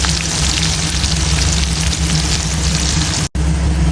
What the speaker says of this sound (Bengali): একই তেলে দিয়ে দিব বড় আস্ত একটা পেঁয়াজ কুচি, এটাকেও বেরেস্তার মতো করে ভেজে নেব।